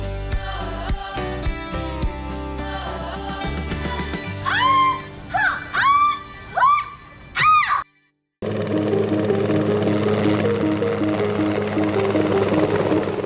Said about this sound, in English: One of the best ways to tour Branson is by helicopter